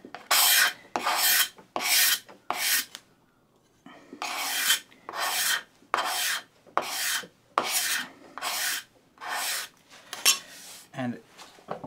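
A burred card scraper strips finish from pine in a run of rhythmic, raspy strokes, each a short scraping burst followed by a brief pause, close and loud.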